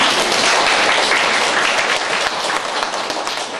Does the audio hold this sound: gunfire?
no